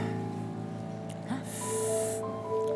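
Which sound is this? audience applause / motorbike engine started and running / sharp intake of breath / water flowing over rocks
sharp intake of breath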